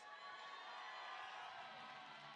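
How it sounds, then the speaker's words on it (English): A crowd at a Las Vegas fight event cheers as a fighter enters the arena, a distant, steady roar of voices and whoops lasting throughout. "Nice little pop from the crowd there for Jonathan Hernandez."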